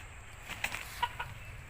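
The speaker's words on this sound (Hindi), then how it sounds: "बहुत अच्छा मुर्गा है" An aseel rooster gives a few soft, short clucks close by, quiet against a low background hum, with no talking.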